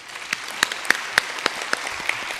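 A church congregation claps during a 2018 installation service for new elders and deaconesses. The claps are individual and sparse, spaced unevenly over a quiet, roomy background rather than forming a full ovation.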